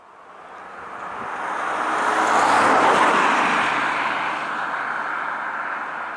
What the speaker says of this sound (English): Excuse the traffic.